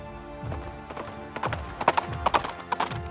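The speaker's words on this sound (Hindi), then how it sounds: "घोड़ी की टाप सुनाई देती है" Horse hooves clip-clop on a hard surface in a steady, uneven rhythm that grows a little louder and sharper partway through, with no speech over it; heard as part of a tale of a midnight visitor to a Shiva temple.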